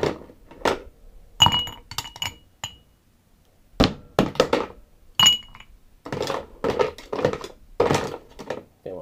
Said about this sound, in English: And add some ice to your glass.